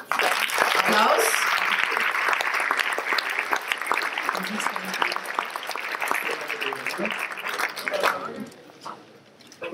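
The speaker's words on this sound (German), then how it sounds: "Applaus." An audience breaks into lively clapping as a presenter is welcomed to a Pecha Kucha talk, full and continuous for several seconds before thinning out and fading near the end.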